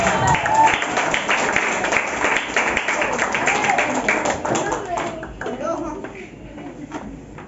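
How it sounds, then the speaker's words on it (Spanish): A crowd applauds performers of merengue campesino and son at a live cultural event, steady dense clapping that slowly thins and fades over several seconds, with voices mixed in. "Nos reciben con un fuerte aplauso"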